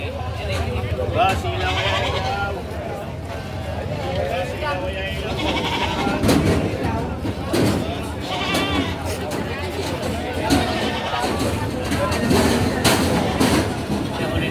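Goats bleat repeatedly amid a busy outdoor crowd at a livestock auction market, with people talking loudly throughout and a low rumbling background.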